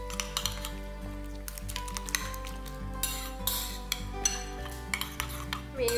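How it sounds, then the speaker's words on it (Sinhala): Spoon stirring an egg and vegetable batter with mozzarella cheese in a bowl, repeated clinks and scrapes against the bowl at an irregular pace, close and clear with no talk. "ටික දාලා හොඳට මික්ස් කරගන්න"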